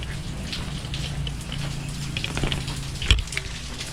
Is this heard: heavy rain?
yes